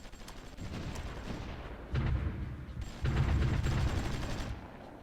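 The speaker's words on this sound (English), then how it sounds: "Our artillery is doing a lot of bombardment." Artillery bombardment in the strategy video game Supreme Ruler Ultimate sounds as rolling bursts of distant booms and rapid gunfire that swell in three waves, with no voices.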